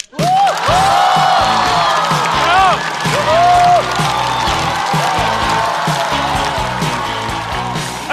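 A studio audience at a stand-up comedy show claps and cheers loudly, with whoops riding over sustained applause throughout.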